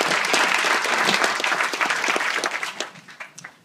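An audience at an Austin City Council event applauds steadily, a dense close wash of clapping that holds strong for a few seconds and then thins out as individual claps trail off.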